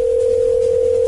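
A telephone dial tone heard while placing a call: a single steady, loud, unbroken hum from the handset, with no voices over it.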